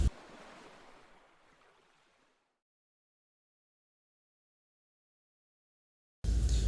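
Sea waves in the deep sea about 90 km off the Bangladesh coast at the Swatch of No Ground, with fishing trawlers rocking on the swell. A broad, rushing wash fades over about two seconds into silence, then a loud burst cuts in at the end.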